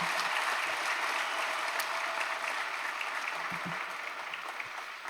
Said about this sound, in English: Clap for yourself for that one.